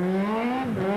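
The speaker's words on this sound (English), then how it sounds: "thrill the spectators with a well-executed handbrake turn" Volkswagen rally car making a handbrake turn on a special stage, a short burst of loud engine drone that dips and recovers as the car swings around.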